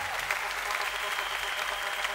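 A church congregation gathered outside under a canopy claps steadily in a dense, even wash of applause that holds at a constant level throughout.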